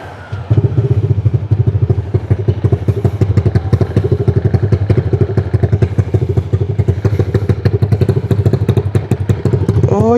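A 185cc motorcycle engine idles while warming up during break-in, a loud, close, steady putter with rapid regular firing pulses and light mechanical clatter throughout, no talking.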